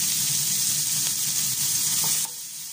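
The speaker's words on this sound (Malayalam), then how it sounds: "ഇനി ഇതിലേക്ക് 2 സവാള ചെറുതാക്കി അരിഞ്ഞത് കേട്ടോ നന്നായിട്ട് വഴറ്റുക" Two finely chopped onions sautéing in a pan, steady bright sizzling with light stirring taps, dropping to a quieter sizzle near the end.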